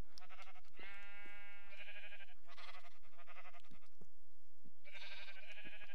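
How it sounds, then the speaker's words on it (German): Several synthetic sheep bleats from Minecraft, played with the Pixelmon modpack, come in bursts, loud and close, with short gaps between calls and no talking. "Blöde dumme Schafe."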